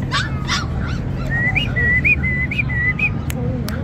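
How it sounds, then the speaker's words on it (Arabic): A Ukrainian-breed dog at a plant-nursery street market in Baghdad's Adhamiyah district whines and yelps close by, joined by a series of short whistled tones amid low market noise. "كلب أوكراني."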